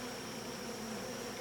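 Ordinary hybrid honeybees at a beehive make a continuous, even buzzing hum that holds steady and sits quiet but close, with no one speaking.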